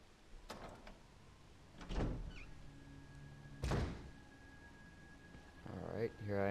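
A door in Resident Evil HD is unlocked and opened: a few heavy thunks and clunks with a sliding creak, spaced apart in a quiet game scene, with a low lingering tone between them.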